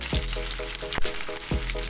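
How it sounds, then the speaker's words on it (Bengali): Chopped onions fry in hot oil seasoned with nigella, fennel, whole garam masala and bay leaf, giving a steady close sizzle with periodic stirring scrapes at a regular rhythm, no voices. "ফোড়নটা ভাজা হয়ে গেলে ওর মধ্যে কুচানো পেঁয়াজগুলো দিয়ে দিলাম"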